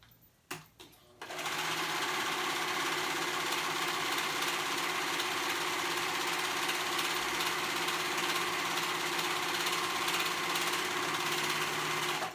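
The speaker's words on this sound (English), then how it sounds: "So I'm gonna go ahead and sew those together." A sewing machine stitches shorts fabric together in one long, steady, fast-running whir that starts after a few brief clicks and stays loud and even throughout.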